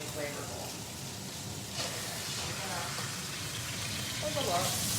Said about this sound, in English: I'm just gonna let it fry for maybe a minute more, and then we're going to flip it to the other side